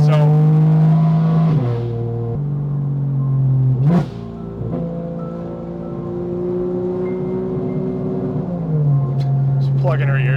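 A Porsche 991.1 GT3 RS on the road drones loudly at steady high revs, its pitch sliding down and back up through gear changes, with a sharp flare near the middle and a brief burst at the end.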